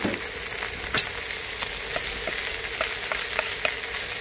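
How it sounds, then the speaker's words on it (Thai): Bamboo shoots, boiled beforehand, stir-fry in a hot pan with a steady close sizzle, broken by regular spatula scrapes and clacks roughly every half second throughout. "แล้วผมก็จะใส่หน่อไม้ลงไปผัดเลยนะครับ"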